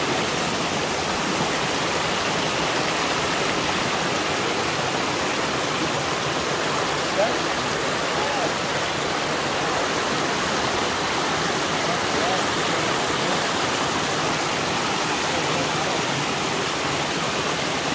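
Hot spring water pours steadily down from a pipe, a loud, continuous, close rushing splash that holds at an even level throughout.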